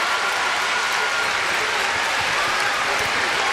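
Toledo Rockets home crowd at a women's basketball championship game, loud sustained cheering and applause filling the arena, a continuous dense roar with no break.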